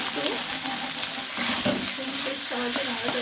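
Ginger paste frying in a pan for a cabbage curry, with a spatula stirring and scraping steadily through a constant close sizzle.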